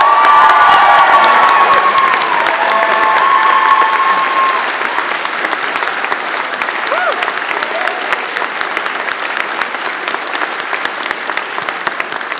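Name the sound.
round of applause at university convocation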